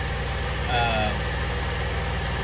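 A Buick Enclave with a 9-speed automatic transmission idles steadily after starting, a close, even low rumble with a faint whine, and a voice speaks briefly over it.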